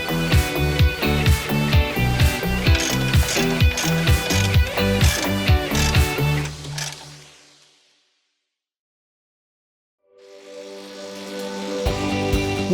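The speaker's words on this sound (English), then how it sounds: "Working from the top down and left to right, you can now tighten up all the bolts" Rapid repeated ratcheting clicks from a hand ratchet tightening bolts on a 2011-2018 Jeep Wrangler JK Unlimited sport cage install, a steady run of about a dozen strokes, then a pause of silence before the clicking resumes.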